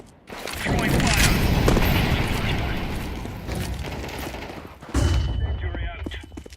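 A grenade and fire are thrown during a video game shootout, with a dense burst of gunfire and explosions that fades, then a second sharp blast near the end, all under excited shouting.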